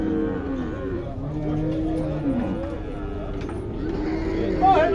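Cattle low and moo at a livestock fair unloading in Tabira, several calls overlapping amid a busy crowd, with people talking nearby throughout.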